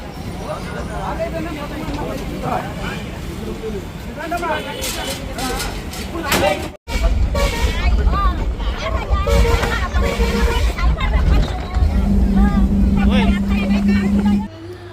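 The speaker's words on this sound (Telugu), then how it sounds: "అందరం కలిసి అయితే లారీలో వెళ్తున్నాము" A lorry packed with family and friends on a holiday outing drives along, its engine rumbling steadily beneath loud passenger chatter and babble, with a momentary dropout midway before the drone resumes.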